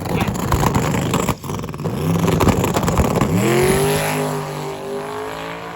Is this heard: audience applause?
no